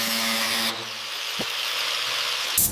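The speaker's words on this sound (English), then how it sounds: "We're sanding away years of neglect to find the metal underneath." A power sander grinds over the bare metal of an old Mini Cooper body, first as a loud, steady whir, then a lighter scraping with a brief squeal and a sharp burst at the end, close up with no talking.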